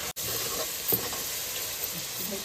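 Spices with kasuri methi and coriander powder fry in a pan for an Arabic mawash dish, giving a steady, close sizzle with faint stirring scrapes and no voices.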